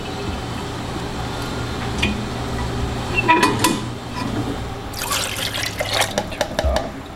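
Water drains through a copper sieve clamped in a paper-making test apparatus, leaving pulp fibres like those used for banknote paper; soft dripping and trickling continues throughout, with a louder splashing burst in the second half.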